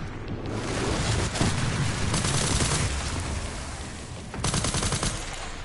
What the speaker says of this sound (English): We got another guy that's shooting a machine gun.